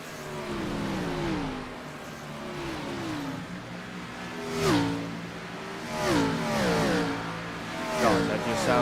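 NASCAR Gen 4 race car engines in the iRacing game rev and rise in pitch, with several cars climbing through gears and passing close by in overlapping waves.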